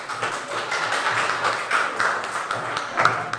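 Classroom applause after a group presentation in an Islamic history lesson, many hands clapping in a dense, steady patter that stays fairly loud throughout, with a faint voice mixed in.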